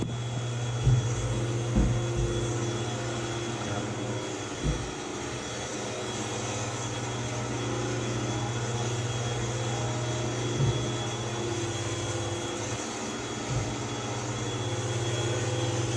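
A steady, droning motor hum runs throughout with a low tonal whine, like a vacuum cleaner running nearby, with a few soft knocks along the way.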